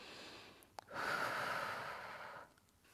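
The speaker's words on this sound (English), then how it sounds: "Inhaling and exhaling." A person doing a hip-focused yoga session takes one long, audible breath, a soft airy rush that rises after a brief click, holds for over a second and fades, close and quiet.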